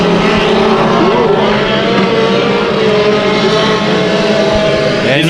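Mini stock race cars roar around Bakersfield Speedway during an 8-lap heat race, loud overlapping engine drones rising and falling in pitch as the pack passes close by.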